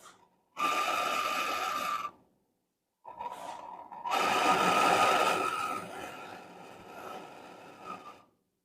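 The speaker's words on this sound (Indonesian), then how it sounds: "las kita sampai dia benar-benar melebur, sambil kita bantu dengan meratakan dengan obeng begini ya guys" A torch flame melting and welding a punctured refrigerator evaporator while the metal is flattened with a screwdriver: loud, steady roaring hiss in long bursts, a brief cutoff, then a softer restart swelling back to full strength before fading out.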